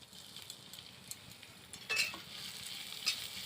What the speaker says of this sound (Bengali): তেলের মধ্যে চাল কুমড়ো পাতাগুলো দিয়ে দেব।